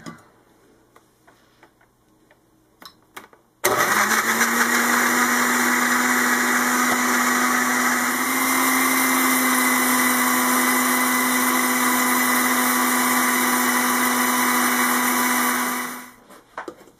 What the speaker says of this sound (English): If you don't have a frozen banana, you could just use a non-frozen banana and just put ice. So let's blend.